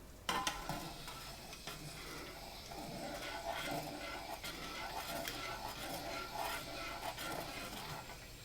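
A small whisk stirs gelatin into water, close and quiet, giving a continuous soft scraping swish with rhythmic taps against the bowl.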